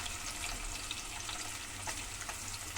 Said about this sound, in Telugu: తాలింపు కోసము ఉల్లిపాయలు, పచ్చిమిరపకాయలు వేసేస్తున్నా.